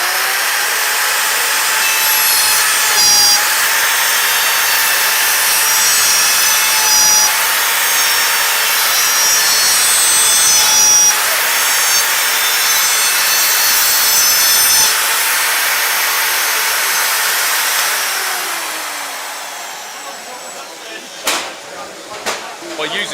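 A router cuts dovetail joints on a Trend CDJ300 dovetail jig, a steady loud whine with wood-cutting grit that holds for most of the span, with brief dips as the bit moves in and out of the fingers, then spins down near the end.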